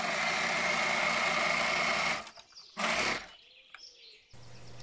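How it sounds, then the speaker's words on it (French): A sewing machine overcasts the seams joining two parts of a t-shirt, running in a steady high whir for about two seconds, then a few brief bursts and stops, close by with no talk. "Et là, je suis en train de surfiler les deux parties."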